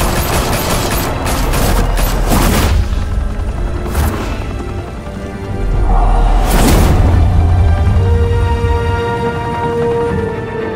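Gunfire erupts in a Gotham City shootout in Batman: The Telltale Series, a loud, sustained volley of rapid shots and deep booms that keeps going for the whole stretch.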